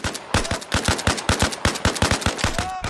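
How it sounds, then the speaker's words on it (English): Rapid automatic gunfire in Arma Reforger, a sharp, loud burst of evenly spaced shots hammering close by for several seconds with only brief gaps. "He literally just gunned me down."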